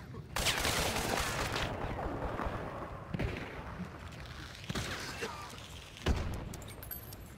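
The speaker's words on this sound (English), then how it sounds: "Are you just shooting?" Gunfire in the Hunt: Showdown video game, several sharp shots and crackling volleys spaced a second or two apart over a rumbling background, fairly quiet overall, with faint voices mixed in.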